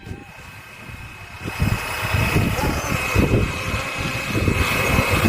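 A small Flywing BO 105 RC helicopter's motor whirs and rises in intensity as it spins up to lift off, with rotor chop pulsing and growing louder, and someone talking alongside.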